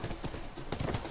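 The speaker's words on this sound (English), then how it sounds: "I'ma head back on horseback with Ellie." Horse hooves clip-clop in a steady galloping rhythm while riding in the video game The Last of Us Remastered, moderately loud against a dense wash of in-game ambient noise.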